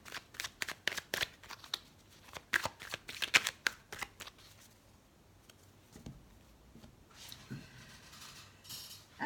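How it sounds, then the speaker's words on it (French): A deck of tarot cards is cut and handled, a quick run of crisp riffling card flicks followed by a few softer slides and taps, close and quiet with no talk. "Alors, on va couper le jeu."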